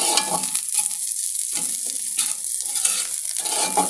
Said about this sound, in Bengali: শুটকিটাও লাল লাল করে ভাজা হয়ে গেছে